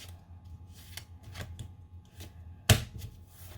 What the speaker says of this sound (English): I'm going to give the deck a little bit of a riffle shuffle